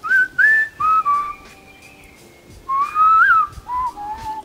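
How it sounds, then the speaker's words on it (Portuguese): A Hadza man in Tanzania whistles to honeyguide birds, sending a few loud, close, clear warbling phrases with short pauses between them, heard alone. "Veja você mesmo como esse cara da tribo Hadza, da Tanzânia, assobia comunicando-se com seus assistentes de penas."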